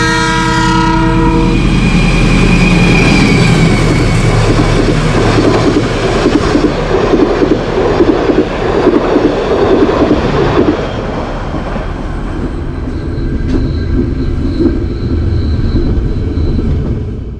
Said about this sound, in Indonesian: Menunggu bersilang sama kereta api Malabar dari Malang tujuan Bandung.